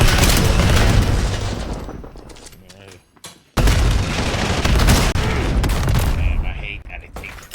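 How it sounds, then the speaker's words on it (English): An enemy cluster grenade goes off in a first-person shooter game amid heavy gunfire: dense bursts of blasts and shots, a brief lull and abrupt cut, then more loud rolling explosions, with a voice talking over part of it. "Enemy cluster grenade."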